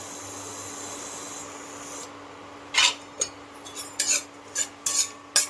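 A spatula scrapes and stirs coconut slices roasting in a little oil in a pan, for a Maharashtrian dry drumstick vegetable. After a quiet start, a series of short, sharp scraping strokes comes close and fairly loud.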